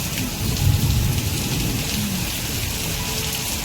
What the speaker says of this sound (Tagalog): Ayan po, lakas ng ulan. Oh, lakas ng thunderstorm.